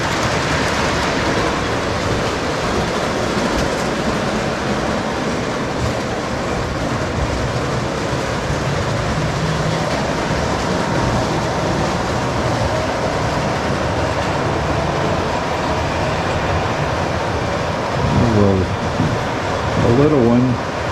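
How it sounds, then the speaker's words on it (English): A model train rumbles steadily along its track through tunnels in a museum exhibit for a long stretch, a continuous mechanical whirr with a voice briefly speaking near the end. "And here comes the train through the tunnels, and the other train right behind it."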